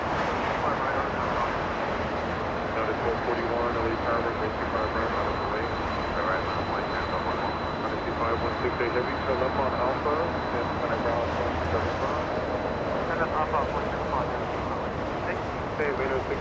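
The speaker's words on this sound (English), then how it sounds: "Philippine Airlines taking off in the distance." A Philippine Airlines airliner takes off in the distance at Los Angeles International Airport, a steady, broad engine roar that holds throughout, mixed with wind buffeting on the microphone and no clear talk.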